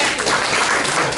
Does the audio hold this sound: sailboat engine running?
no